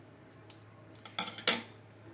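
Paper being cut to make flowers for a greeting card: two crisp, close snips in quick succession after a quiet start, with a faint tick or two before them.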